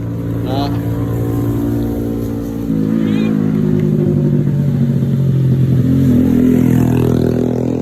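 Motorcycle riding on a road trip in Switzerland, with a loud, steady engine drone that rises as the bike accelerates, while a person talks over it.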